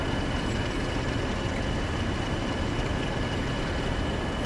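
A Class 47 diesel hauls a short oil train past in the Train Sim World game, a steady broad rumble and rolling rail noise with no voices.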